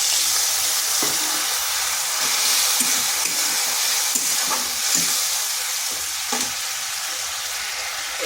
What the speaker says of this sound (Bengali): দিয়ে দিচ্ছি সামান্য একটু জল।